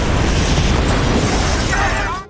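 A loud ferry explosion sound effect: a dense, sustained roaring blast filling the whole range for about two seconds, with crackling debris toward the end before it cuts off.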